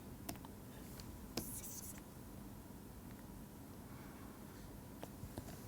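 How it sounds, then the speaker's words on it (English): Faint handwriting scratches come in short, sparse strokes during an ecology lecture, quiet and close against a steady background hiss. "Let me write this again."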